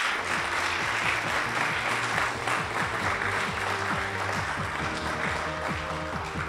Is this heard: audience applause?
yes